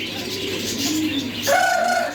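Pigeons coo and chirp amid a busy pet bird shop that also sells fish, with a brief, louder call near the end over steady background chatter.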